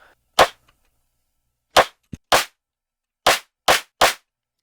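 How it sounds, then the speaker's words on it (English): Six sharp, heavily distorted clap hits with crunchy, gritty edges, spaced irregularly with silence between them and no other sounds. "we can create a clap with this that can also be like super distorted"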